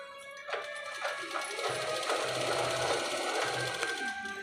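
A sewing machine stitching cloth and lining, a few short bursts of rapid mechanical whirring followed by a longer continuous run of stitching, close and moderately quiet with no voices.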